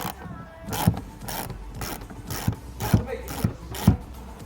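A 13mm socket wrench ratchets a bolt out of an Audi A3 rear light housing, giving steady, close metallic clicking with sharper ticks every half second or so.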